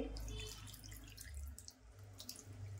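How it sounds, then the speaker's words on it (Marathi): Water running steadily into a cooking pot, a soft continuous splashing pour, close by and quiet, with no talking. "आता याच्यामध्ये थोडंसं मी पाणी टाकते,"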